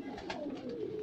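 A pigeon gives a soft, low, throaty coo close by, one brief rolling call with no other sounds.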